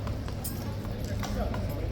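A horse's hooves clip-clop across a yard, a few irregular steps heard under a steady noisy background, with someone talking over them.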